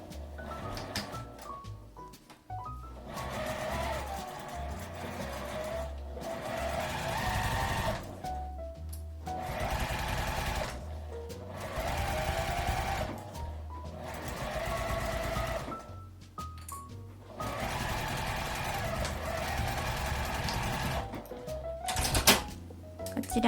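A sewing machine stitches fabric seams about 5 mm from the edge while making a zippered chopstick case, running in long steady bursts separated by short pauses, close and clear with no talking.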